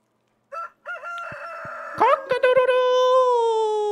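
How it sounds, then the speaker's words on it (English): Rooster crowing in the farming video game Stardew Valley, a clear morning cock-a-doodle-doo call rising and then holding a long, drawn-out final note, loud and close with no talk over it. "Cock-a-doodle-doo."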